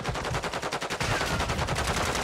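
Rapid automatic gunfire in the DMZ video game, a dense run of evenly spaced bursts that keeps up loudly and steadily throughout.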